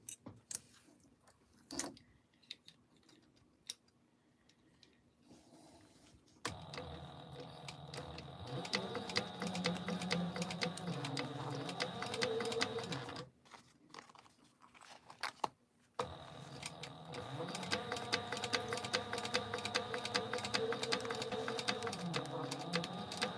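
A sewing machine stay-stitches along the sides of fabric pieces for a Mini Scout sew-along, running in two steady, whirring bursts with a short pause between and quieter handling before.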